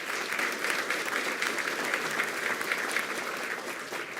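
An audience at a school district board meeting gives steady, moderately loud applause that continues evenly from start to finish, with no talking over it.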